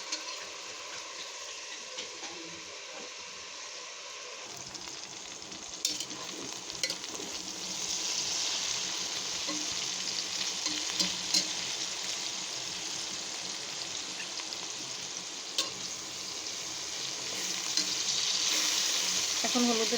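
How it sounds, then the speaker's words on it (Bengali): Taro stolons frying in oil with onion and green chili, a quiet start giving way to steady sizzling with intermittent scrapes and clacks of stirring, growing a little louder near the end. "এখন হচ্ছে আমি লতি ভাজি করব"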